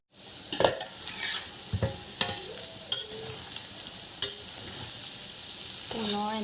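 Potatoes with spices being stirred in a pan for an Assamese pigeon curry, soft sizzling under repeated sharp scrapes and clinks of a spoon against metal, close and intermittent.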